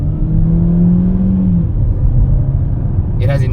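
A 2024 Ford Territory in sport mode accelerates on the road, its engine a steady, loud low rumble with a faint rising whine that fades, and a brief voice at the end.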